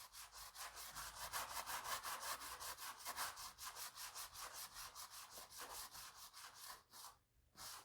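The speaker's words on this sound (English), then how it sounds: "It's possible I'm kind of sanding it too much." Rapid, rhythmic rasping of sandpaper rubbed back and forth by hand on a wooden handrail, close and steady, with a brief pause near the end.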